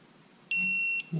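A single short electronic beep, a clean high-pitched tone lasting about half a second in a quiet room.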